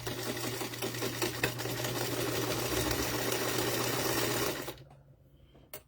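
A sewing machine runs continuously while stitching quilt block seams, a steady fast mechanical whir and clatter close by that stops abruptly near the end, leaving near silence.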